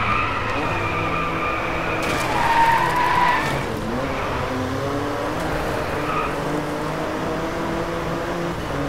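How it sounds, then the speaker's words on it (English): A race car drifting around a corner in the video game Drive Club, engine roaring with a long tire squeal and skid that peaks and fades as the car slides through. "Let's drift our way around this corner."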